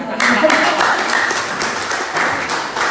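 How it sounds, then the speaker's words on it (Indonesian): Audience applause follows a talk on a shopping rewards app, a dense clatter of many hands clapping steadily for about three seconds with some voices mixed in. "tepuk tangan dong"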